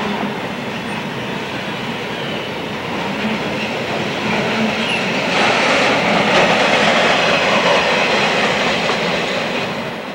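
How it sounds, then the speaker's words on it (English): A freight train rolls steadily past with a Katy caboose at the rear, a loud, close, continuous rumble of wheels and clattering railcars that swells slightly midway and holds for ten seconds without talk. "A Katy caboose brings up the rear."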